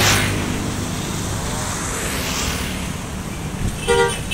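A Tunggal Jaya tour bus on a Palembang–Kuningan route sounds a loud multi-tone horn near the end, a short harmonic toot rising over steady roadside traffic noise.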